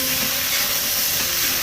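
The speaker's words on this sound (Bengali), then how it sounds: "ভালো করে নেড়ে চেড়ে ফুলকপি, আলু একসঙ্গে মিশিয়ে আর একটু ভাজা ভাজা করে নেব।" Cauliflower and potatoes frying in a pan, a steady broad sizzle and hiss with no pauses, close and fairly loud, with no voices.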